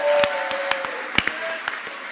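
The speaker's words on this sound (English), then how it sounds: "I really think he deserves another round of applause" Audience applause at the SAISA basketball closing ceremony in 2023: a short burst of scattered claps from a modest crowd, fairly close, with a sustained tone running underneath.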